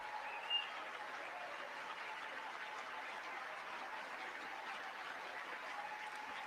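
Applause from a large audience at a State of the Union address, a steady broadband wash of clapping that holds at an even, moderate level throughout with no voices over it.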